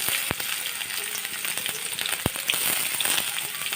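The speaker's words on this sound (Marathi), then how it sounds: "येलो मामसाठी जराशी मोहरी, लसूण, कांदा, मिरची सगळं फोडणीला द्यायचं." Mustard seeds, garlic, onion and chili crackle as they are tempered in hot oil, a close, bright sizzle with scattered sharp pops and spatters.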